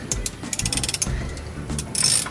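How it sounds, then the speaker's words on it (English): A ratchet turns a nut inside a VW Beetle steering column during an ignition switch replacement, making a quick series of close, sharp clicking pawl ticks over about two seconds. "Got us a ratchet here. I hope it's the right size."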